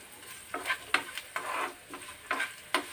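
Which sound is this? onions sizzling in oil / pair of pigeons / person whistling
onions sizzling in oil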